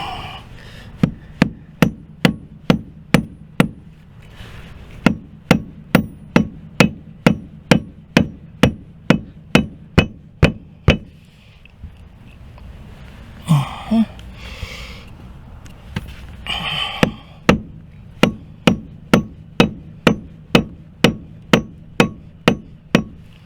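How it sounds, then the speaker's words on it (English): Heavy hammer made of solid stainless steel rod pounding steadily during a boat main mast leak repair, loud evenly spaced thuds roughly once a second, with a brief pause and some handling noise midway. "It's real heavy, so it's been a great hammer"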